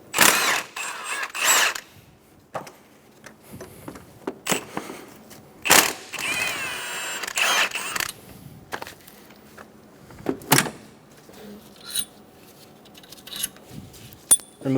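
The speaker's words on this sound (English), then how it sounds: "Using a 14mm socket, remove the two bolts for the mount bracket." A 14mm socket ratchet works the upper transmission mount bracket bolts on a 2003-2007 Honda Accord 3.0L V6, giving close metallic clicks and clinks in scattered bursts, with a longer ratcheting run in the middle.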